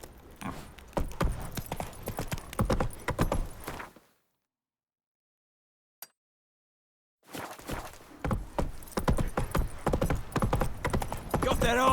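Roach the horse gallops in The Witcher 3 Next-Gen, hooves drumming under game sounds. The hoofbeats cut out completely for about three seconds in the middle and then pick up again.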